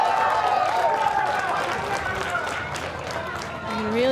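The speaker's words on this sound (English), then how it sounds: "you really feel the crowd getting involved every single time" Stadium crowd noise at an A-League football match between Perth Glory and Wellington Phoenix, a steady broad roar with scattered claps and shouts rising toward the end, beneath a commentator's voice.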